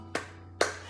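Two crisp hand claps about half a second apart, close and clear over a low steady hum, keeping time with a live comedy song.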